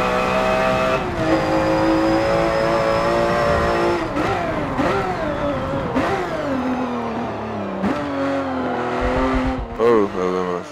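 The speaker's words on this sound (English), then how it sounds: "those bad tires were slipping" A race car in Forza Motorsport 7 revs hard, its loud engine whine rising and falling through gear changes, with tire squeal from slipping, worn tires mixed in near the end.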